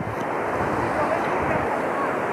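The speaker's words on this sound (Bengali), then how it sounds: "পুরোপুরি ভার্জিন সি বিচ।" Waves on an empty beach at Tajpur, a continuous rushing roar of surf mixed with wind noise, loud and steady.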